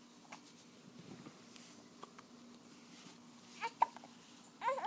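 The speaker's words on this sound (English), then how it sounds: "You get hiccups?" A child's hiccups at home, a few soft isolated hic sounds scattered through a quiet room, with a couple of sharper catches near the end.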